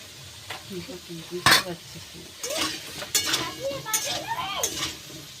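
Potatoes for a cauliflower curry sizzle in hot oil while a spoon scrapes and stirs them around the pan in repeated strokes, close and fairly loud.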